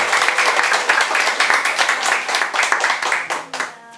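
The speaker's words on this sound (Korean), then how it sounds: "71기생들한테 박수 한번 쳐주세요." A roomful of students in a lecture class claps for a newly joined cohort, brisk rhythmic applause with audible individual hand claps that thins out and stops near the end.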